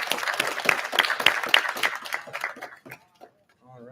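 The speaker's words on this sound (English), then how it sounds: "One more round of applause for Ways and Means and all their hard work." Round of applause from attendees at a university student government meeting, brisk clapping for about three seconds that thins out and stops, followed by a brief moment of quiet.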